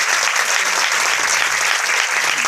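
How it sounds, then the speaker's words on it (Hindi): A congregation claps at an Easter church service, dense steady applause filling the space, loud and close throughout with no speech over it. "और क्या इनके लिए तालियां बजा सकते हैं?"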